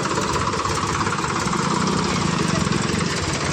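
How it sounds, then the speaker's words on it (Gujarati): A tractor engine idles nearby with a steady, slightly knocking medium rumble that continues throughout. "એ ટ્રેક્ટરે આવી ગયું છે"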